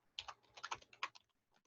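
Rapid bursts of computer keyboard typing, a quick irregular run of close, crisp key clicks that tapers off into near silence.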